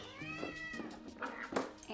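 A pet cat meows a few times at close range during a livestream, its cries rising and falling over a couple of seconds, with faint background activity beneath.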